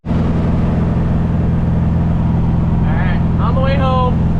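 Steady, loud engine drone and road rumble from a car with a failing engine cruising toward a graduation party, continuous throughout, with brief chirping sounds near the end.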